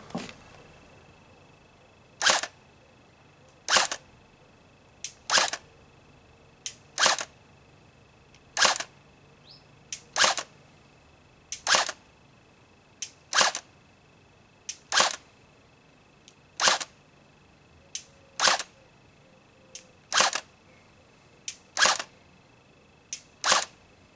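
Rifle shots in semi-automatic fire ring out as about fifteen sharp, evenly spaced cracks over a quiet background, each loud and brief with a short tail.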